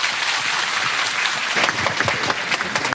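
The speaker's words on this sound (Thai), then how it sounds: "ขอเสียงปรบมือให้กับท่านนายกรัฐมนตรีเราอีก" Crowd at a live-streamed event at Wat Fai Hin in Chiang Mai applauds the prime minister, a sustained wash of many hands clapping, swelling slightly toward the end.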